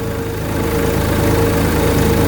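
A tractor with a front loader and weight on the back runs at a steady, loud, close drone with an even throbbing pulse and no voices.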